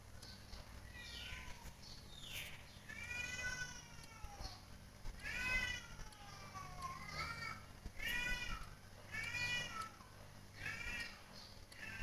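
Cat meowing repeatedly during a mobile game session, a series of drawn-out, wavering meows with short pauses between them, fairly close, over a faint low hum and background game sound.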